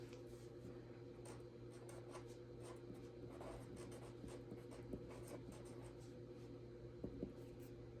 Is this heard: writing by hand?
yes